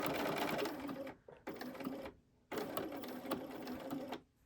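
Sewing machine stitching quilt binding: three steady bursts of rapid motor-driven stitching, close and clear, separated by brief pauses, with no talk.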